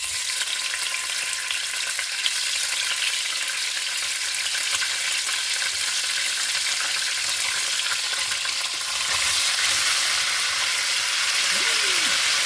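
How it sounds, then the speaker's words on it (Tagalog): Tofu fries in a hot pan with oil, giving a steady, dense sizzle that runs the whole time with no talk over it, growing slightly brighter toward the end. "Iprituhin natin ng konti."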